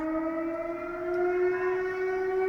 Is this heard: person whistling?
no